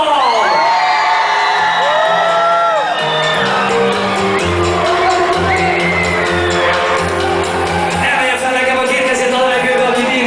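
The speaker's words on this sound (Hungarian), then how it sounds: "kérlek szépen 3-ra sikítsél nagyot!" A festival crowd screams and cheers loudly at a club show, a sustained roar of shouts and whoops over pounding dance music that runs the whole clip.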